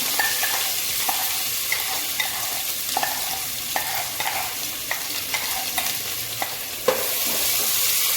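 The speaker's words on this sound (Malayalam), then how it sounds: "നന്നായി ഇളക്കുക. നന്നായി മിക്സ് ചെയ്യുക." Ginger, garlic and curry leaves are stirred into hot oil with spices for a pork and koorka dish, making a steady close sizzle broken by repeated scraping strokes of the spoon.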